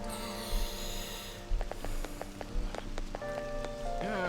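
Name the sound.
rain in the video game Persona 5 Royal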